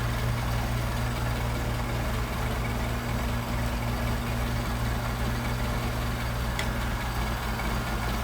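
A car engine with a freshly rebuilt Solex carburetor idles smoothly and steadily at close range, a continuous low rumble with no voices.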